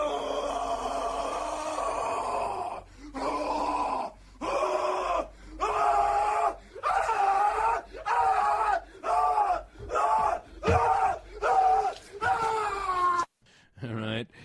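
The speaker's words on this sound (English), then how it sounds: "I give it the Nick Cage from Mandy horror screams" Nicolas Cage's anguished horror screams from the film Mandy, loud and close, a string of ragged yelling cries and groans broken by short pauses, each burst strained and wailing.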